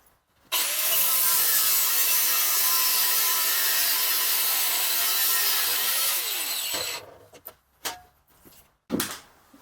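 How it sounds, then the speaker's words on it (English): An angle grinder with a cutting disc slices the tie rod bracket off an old steering spindle for a Ford LGT 145 garden tractor, a loud, steady high whine for about six seconds, then stopping, followed by a few short bursts and clatters. "I'm using a cutting disc and an angle grinder to cut off the tie rod bracket off of the old steering spindles."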